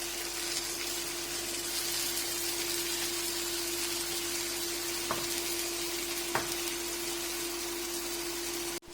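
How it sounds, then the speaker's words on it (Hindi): Chicken pieces and vegetables fry on an electric grill machine with an even, close sizzle, a low steady hum beneath it and a couple of faint clicks. Nobody talks. "तो ये देखिए चिकन जो है वो ग्रिल होना स्टार्ट हो चुका है। साथ में ये देखिए वेजिटेबल भी अच्छे से जो है वो फ्राई हो रही हैं।"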